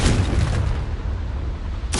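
A Confringo spell in Hogwarts Legacy bursts with one loud, heavy explosive boom that rumbles and fades over about two seconds, with a fresh sharp onset at the very end.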